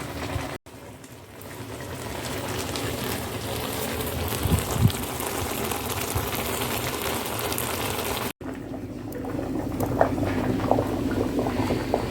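Saag simmers in a pot after more hot water is poured in, a dense, steady bubbling and hissing that continues close and alone for several seconds, broken by two brief cuts.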